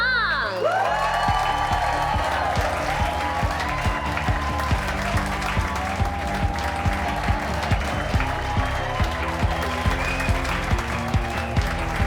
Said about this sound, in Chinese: 让我们掌声有请达达俊的练习生出场